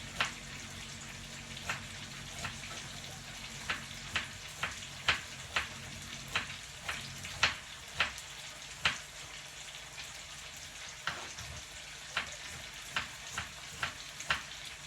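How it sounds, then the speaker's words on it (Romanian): Julienned onion and chopped vegetables fry in oil in a pot, giving a faint, steady sizzle broken by scattered sharp pops and crackles, with no voices. "Ca să călim legumele."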